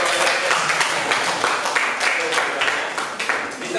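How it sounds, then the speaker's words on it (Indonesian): A classroom group claps during a teaching-practice lesson, a brisk burst of many hands with audible individual slaps that softens toward the end. "Oke, tepuk tangan."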